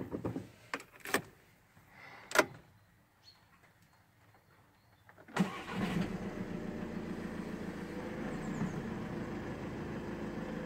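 A 2014 Volkswagen Sharan TDI SE diesel with a six-speed manual: a few quiet clicks and thumps, then the engine cranks and catches abruptly, settling into a steady, close diesel idle that continues to the end.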